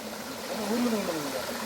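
Mountain stream water flowing steadily on a trek in the Agasthyarkoodam hills, a continuous close rushing and gurgling that fills the short stretch with no clear talk.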